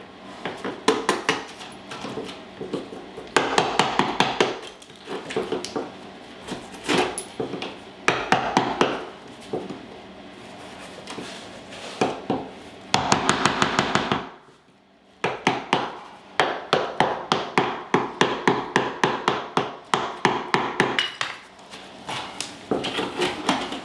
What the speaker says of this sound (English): use your chisels to gently pry